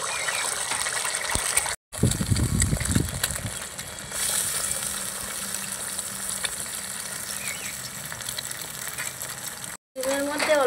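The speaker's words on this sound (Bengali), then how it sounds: "এবার তেলের মধ্যে দিয়ে দেব ডিম ফাটিয়ে। এখানে আমি 2টো ডিম ফাটিয়ে দিয়ে দেব।" Two eggs cracked into a pan of hot oil, giving a steady close sizzle and frying hiss with brief gaps, and a short burst of crackling near the start.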